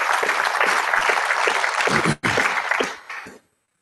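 Audience at a panel discussion on peace in Israel and Palestine gives a round of applause, steady clapping that breaks briefly, resumes, thins out and stops into silence.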